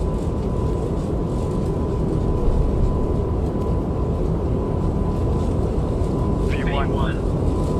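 Engines of an Airbus A220-300 in a flight simulator game roar steadily through the takeoff roll, a loud continuous rumble with a faint tone, while a voice calls out briefly over it.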